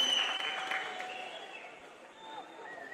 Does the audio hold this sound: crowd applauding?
yes